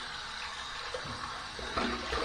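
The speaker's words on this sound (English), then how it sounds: "Here's my warm water rinse." Warm water runs and splashes steadily during a rinse after a safety razor shave, a close, soft gush that continues without a break and grows a little louder near the end.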